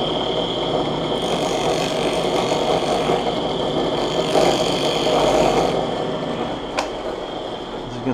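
A Safe-T-Planer shaves an archtop guitar plate down to thickness, giving a steady, loud machine whir with rough cutting noise throughout and a brief sharp tick near the end.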